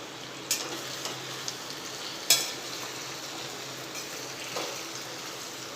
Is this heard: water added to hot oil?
yes